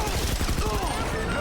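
Rapid bursts of M4A1 rifle fire in a video game, a dense fusillade of shots over about a second before trailing off, with a voice faintly present beneath.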